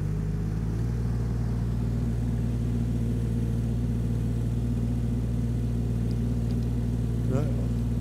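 A digger's engine runs steadily while cutting a trench for antenna feeder cable, a continuous low mechanical drone with a rising throttle surge, loud and close throughout.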